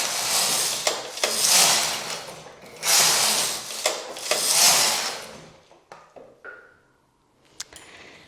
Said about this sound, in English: I will knit my last 4 rows